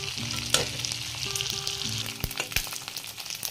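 Dried fish frying in a pan until deep red, with a steady close sizzle and bursts of stirring and scraping, a few sharp knocks against the pan near the end; no talk.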